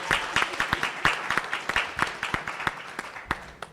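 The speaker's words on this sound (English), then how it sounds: "Let's give her a round of applause for being one of our sponsors." A school board meeting audience gives a modest round of applause for a sponsor, a steady patter of individual claps from a smallish room, fairly quiet and continuous throughout.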